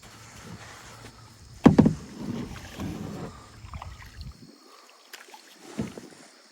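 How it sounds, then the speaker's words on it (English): Kayak paddling on the Kickapoo River, close and quiet, with soft watery strokes, a sharp knock against the hull and light wind, no talk. "I better start paddling."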